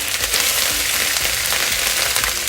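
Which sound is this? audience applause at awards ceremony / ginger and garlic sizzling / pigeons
ginger and garlic sizzling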